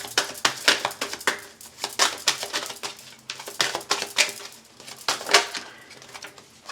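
Tarot cards being shuffled by hand: repeated crisp riffling bursts and snaps come in an irregular rhythm, close and fairly loud, with no speech.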